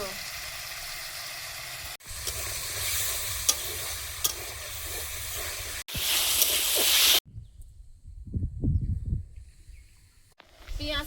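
Whole cumin, crushed garlic, potato, salt and turmeric frying in oil, giving a loud, close, dense sizzle with stirring scrapes, then a sudden drop to quieter clatter and faint sizzling near the end.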